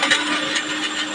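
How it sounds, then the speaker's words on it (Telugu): A kitchen mixer grinder whirs loudly with a mixie jar of salted spinach chutney ingredients. The steady, close grinding runs without a break, then stops abruptly. "మళ్ళీ మనం వీటిని కూడా గ్రైండ్ చేసుకోవాలి"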